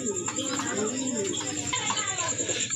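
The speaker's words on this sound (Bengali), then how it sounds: "এক জোড়া শাটিন কবুতর" A pair of satin pigeons coo with soft, rolling calls, close by and continuous over the background noise of a pigeon farm. A faint steady high whine sits beneath the calls.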